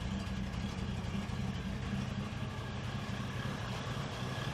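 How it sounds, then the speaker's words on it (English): A 1973 Ford Maverick engine idles with a steady low rumble that carries a slightly uneven, lumpy pulse, running alone and close with no talking. "It just doesn't sound very good. Sounds like it's misfiring or something,"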